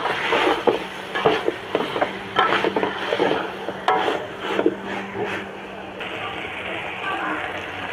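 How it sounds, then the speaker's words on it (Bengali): Spices and Malabar spinach fry in a pan while being stirred, with repeated scraping strokes over a soft sizzle and someone speaking over it. "দিয়ে আর একটু ভালো করে ভেজে নেব।"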